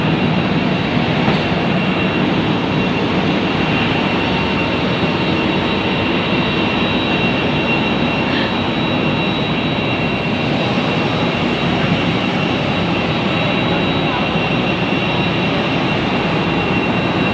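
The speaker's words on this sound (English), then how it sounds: "Oh, airplane." Steady cabin roar of an airplane flying from Manila to Legazpi in the Philippines, a loud, unbroken broadband drone with a faint high whine, no talking.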